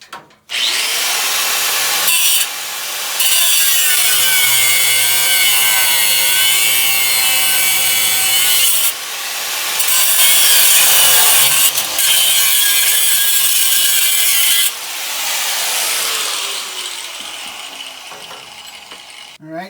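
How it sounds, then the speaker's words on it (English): Cutoff wheel grinding the rivet heads off a 1951 Hudson's front frame rail: loud, harsh, close metal-cutting screeches in three long bursts with brief gaps, then trailing off as the wheel spins down. "So I'll do it this side with the cutoff wheel, at least for a couple of the rivets"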